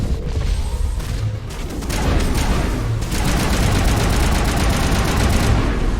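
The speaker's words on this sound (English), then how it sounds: "I like this assault rifle, dude." Rapid assault rifle fire in Mass Effect 1 Legendary Edition, a loud, sustained stream of close gunshots in long bursts with brief pauses, booming impacts mixed in.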